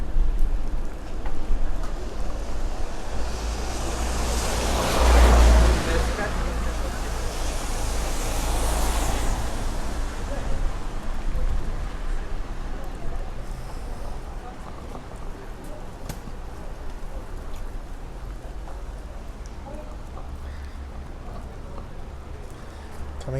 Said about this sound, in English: And the rain is stopping again.